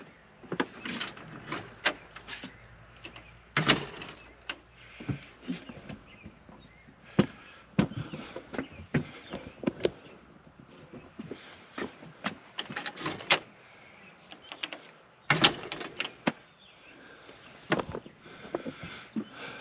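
A greenhouse door is opened and shut repeatedly, giving a run of sharp knocks, clacks and rattles spread irregularly through a fairly quiet space, with no talking.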